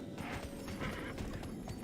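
Horse hooves clip-clop in the video game Tera, a quick run of light rhythmic thuds lasting under two seconds with nothing else over them.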